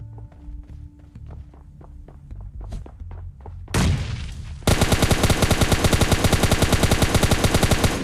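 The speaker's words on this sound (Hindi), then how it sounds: "इसके टीममेट की भी ना कतई स्ट्रॉन्ग फुटस्टेप्स की आवाज़ आ रही थी" Footsteps in an online shooter game, quick muffled steps in the first seconds before a burst of loud, rapid automatic gunfire dominates the rest, with no talk.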